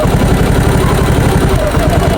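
A motorcycle engine with a fault that makes it stall runs steadily close by, a loud rhythmic low putter with a constant mechanical hum.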